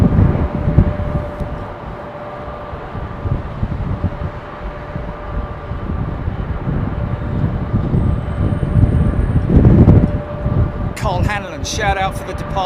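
Aircraft at London Heathrow Airport, a steady broad jet roar rising slightly toward the end, heard at a distance over wind noise, with a voice talking over it near the close.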